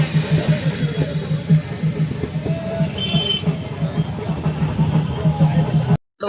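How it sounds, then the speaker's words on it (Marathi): Heavy road traffic jam near a hilltop temple fort during a festival crowd: idling engines hold a steady, close low rumble for the whole stretch, with voices mixed into the din. "नाही जबरदस्त ट्रॅफिक"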